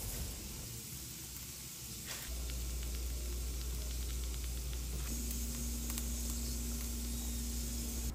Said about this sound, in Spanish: voy a poner a hervir unos 4 jitomates, cebolla, un chile y un ajo